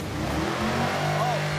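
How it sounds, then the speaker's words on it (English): A loud car engine revs briefly with a rising, rumbling tone, close and continuous, while a voice talks over it. "It's a really loud car."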